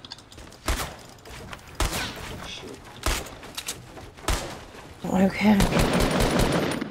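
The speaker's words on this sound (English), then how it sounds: "He's shooting at me." Gunfire in an online squad shooter game rings out as several separate sharp shots and short bursts, spaced apart, followed by a heavier stretch of fire while players talk over it.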